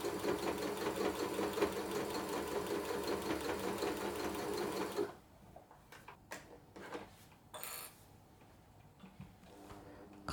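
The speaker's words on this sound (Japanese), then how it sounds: "ミシンが足踏み式のミシンなので、こうやって膝を立てないと足で踏むことができない" A foot-treadle sewing machine stitches fabric for a simple oven mitt, running in a steady dense whir for about five seconds, then stopping and giving way to a few scattered clicks and handling knocks.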